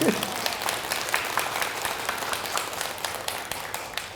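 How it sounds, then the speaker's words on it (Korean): A crowd at a youth Buddhist New Year dharma gathering applauds, continuous even clapping from many hands at moderate level throughout, with no talk over it. "박수 한번 치셔야지."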